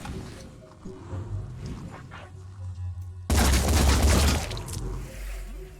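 Gunfire in the Phoenix Point tactics game, aimed shots ringing out as a loud, dense burst that erupts suddenly after quieter ambient rumble and lasts to the end.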